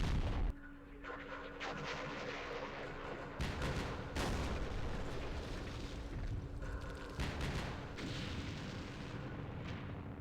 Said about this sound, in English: The mortars. They're brutal.